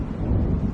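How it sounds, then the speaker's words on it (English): Low, rumbling thunder from an approaching storm in the video game Alan Wake Remastered, a short, steady, heavy roll with no distinct crack and no voices. "It seems there's a storm coming."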